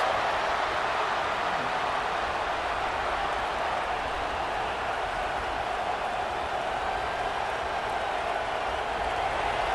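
Stadium crowd noise in the College Football 26 video game, a dense, steady roar of cheering that fills the whole stretch at high level, with no distinct voices standing out.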